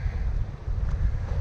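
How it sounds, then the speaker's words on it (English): Strong wind of about 12 knots buffets the microphone with a continuous low rumble, mixed with the wash of water around a moving Bavaria 41 sailboat. "So now we have quite a bit of wind,"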